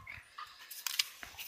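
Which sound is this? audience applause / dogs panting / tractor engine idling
dogs panting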